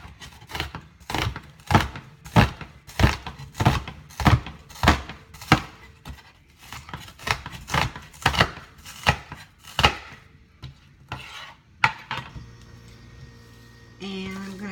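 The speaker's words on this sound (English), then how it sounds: "And I'm also going to chop up a red onion" Knife chopping red onion on a board in a home kitchen, a steady run of crisp close thunks at a brisk even rhythm, pausing near the end before a faint rustle.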